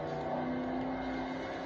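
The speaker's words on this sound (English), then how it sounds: "there's a car coming the other way" Steady engine drone of cars in Forza 4 racing game as another car approaches from the opposite direction, a continuous loud motor hum with a low tonal whine throughout.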